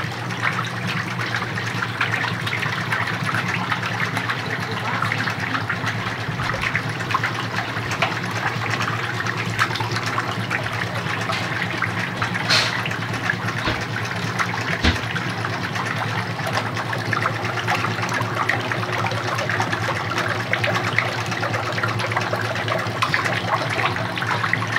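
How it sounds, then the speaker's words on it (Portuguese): A homemade soap-making machine, driven by a washing machine motor and pulley, runs with a continuous whirring churn and a wet, sloshing wash of liquid, steady and fairly loud throughout. "Tem uma máquina para fazer sabão, ó. Simples, feito com polia de máquina de lavar roupa, tanquinho, motor de tanquinho"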